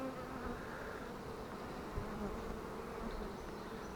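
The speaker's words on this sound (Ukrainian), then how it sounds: "Бджолам вже тісно." A large, crowded honey bee colony in a hive packed with frames, a dense continuous buzzing drone filling the whole stretch at steady loudness with no talk.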